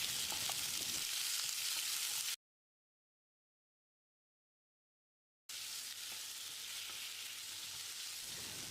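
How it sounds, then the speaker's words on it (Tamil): Steady sizzling and crackling of onion and tomato sautéing in a hot pan, close up, broken by a few seconds of silence before the sizzle resumes. "இதையும் போட்டு மறுபடியும் ஒரு 30 செகண்ட் வதக்கிடலாம்"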